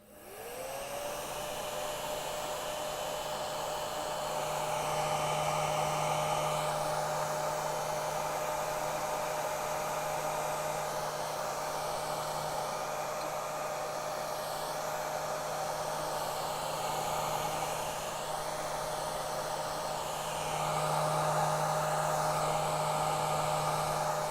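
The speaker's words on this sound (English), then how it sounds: "I'm using a hair dryer" A hair dryer runs steadily and close to dry a watercolor night-sky landscape painting, a continuous loud whir with a steady tone that holds for the whole stretch, with no one talking.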